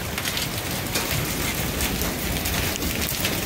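Hail pours down during a severe storm, a dense, loud and steady clatter filling the whole stretch without pause.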